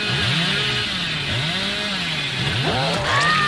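A chainsaw revs in the Dead by Daylight horror game, its engine rising and falling in repeated swoops throughout, loud and continuous, with a brief sharper whine near the end.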